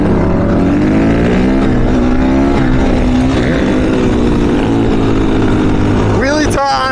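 A motorcycle engine roars loud and close while riding through downtown Denver, holding a steady throaty drone before a sharp rising rev near the end as the front wheel lifts for a wheelie.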